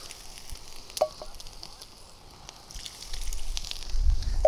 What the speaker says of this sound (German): Und das werden wir jetzt alles mal ein bisschen unterheben hier.